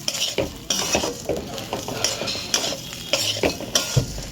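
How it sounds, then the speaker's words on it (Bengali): Spiced rice being stirred as it fries in a pot, with a ladle scraping and clinking against the metal in repeated strokes over a soft steady sizzle, close and fairly loud, no voices. "এবার আমি নেড়ে নিচ্ছি সব"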